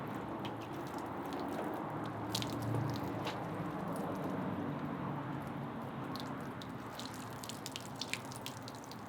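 Water poured over a car's detailed, ceramic-coated paint splashes and trickles softly, with faint drips and wet squishing running throughout at close range.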